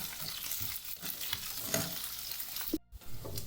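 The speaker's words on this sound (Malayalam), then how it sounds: "പിന്നെ വെണ്ടയ്ക്ക, ഇത് 3 ചേർത്ത് കുറച്ച് സമയം വഴറ്റുക." Okra sautés in a pan with other vegetables for a roasted-coconut sambar, giving a steady close sizzle with scraping stirs and one brief break.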